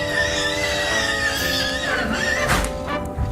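Horses whinnying in a Fallout game, with a drawn-out tonal neigh rising and falling over a steady background and a louder burst near the end.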